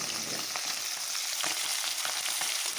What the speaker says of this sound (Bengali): হালকাভাবে মাছটাকে আমি ভেজে নেব, ভেজে এখন তুলে নেব